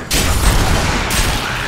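Green laser attacks fire in Diablo III as a loud, dense burst of crackling, booming energy blasts that runs almost continuously, with a sharp hissing rise near the start and another partway through.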